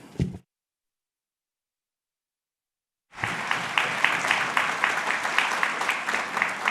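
A town meeting audience breaks into steady applause after a short pause, many hands clapping together in a sustained, even ovation after a brief voice.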